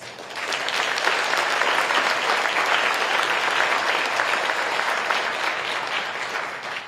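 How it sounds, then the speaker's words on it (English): A banquet audience applauds steadily and loudly at a government New Year gala, a dense crowd of clapping hands that continues evenly for several seconds with no voices over it. "I would like us all to please give MOFOR Taiwan a round of applause"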